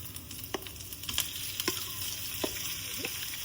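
Samosa potato filling being stirred in a hot pan over a tempering of green chillies and curry leaves, a soft, continuous sizzle broken by occasional spoon scrapes and clicks.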